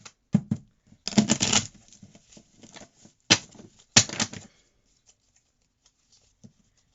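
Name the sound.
shuffling a tarot card deck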